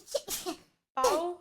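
A female streamer lets out a quick sneeze, followed by a short pause and then a voiced sound, close to the microphone and loud against an otherwise quiet background.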